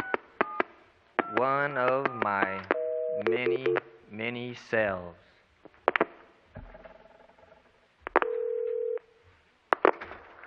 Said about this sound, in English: I'm going to give myself a call.